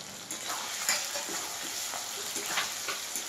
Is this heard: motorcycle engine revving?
no